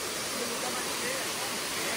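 A waterfall heard nearby along a forest trail, a steady, dense roar of falling water that fills the whole short moment without break.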